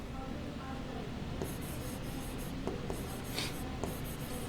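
A pen or marker writes on a board or paper, steady scratchy strokes in short bursts close by, with quiet room hiss beneath and no talking.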